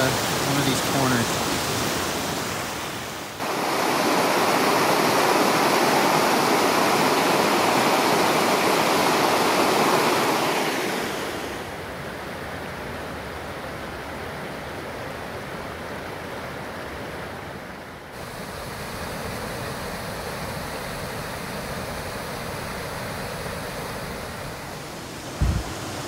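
A small waterfall drops through an old-growth creek ravine in a coast range stream at Plympton Creek, a continuous rushing roar that swells loud near the middle, then settles into a softer steady wash.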